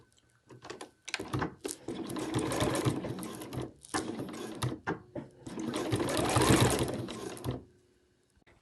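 A sewing machine stitches fabric for an overlocker cover in two long bursts of rapid mechanical whirring and clatter, separated by short stop-start runs and brief pauses, close and fairly loud.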